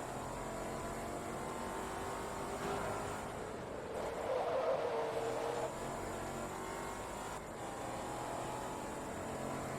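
A race car in the Forza Motorsport 2 racing game drones steadily under load, its engine note holding fairly constant with a brief surge and tyre roar around the middle before settling back.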